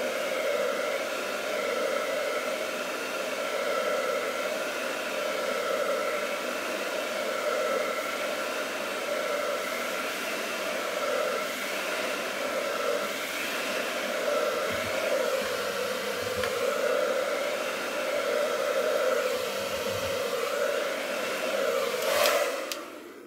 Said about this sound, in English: we're just going to apply some full heat on a #1 setting on the back side of that battery, just for a few seconds